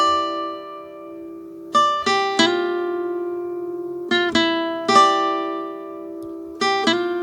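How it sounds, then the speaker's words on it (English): Acoustic guitar sample recorded on a Boss RC20 loop station, plucked notes and short chord strums ringing out clearly on their own in a few spaced groups. "The initial sample is an acoustic guitar recording that sounds like this."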